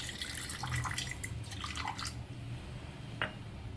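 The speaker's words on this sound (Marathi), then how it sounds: "या पातेल्यात पाणी ओतूया." Water pours and splashes into a cooking pot in a kitchen, a steady close trickling stream that fades toward the end, with no talking.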